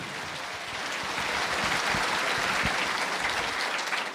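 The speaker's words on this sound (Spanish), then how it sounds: "fuerte aplausos a Cristo" Applause from a church congregation honoring Christ at a gathering, a dense sustained clatter of many clapping hands that swells after the first second and holds steady throughout, with no voices standing out.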